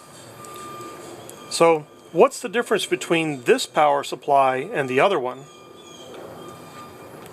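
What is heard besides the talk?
garbage truck reversing beeps outside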